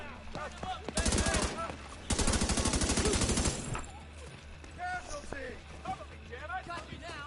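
A gun in a PS4 video game fires two long rapid bursts of evenly spaced, loud shots, each lasting over a second, surrounded by talking before and after.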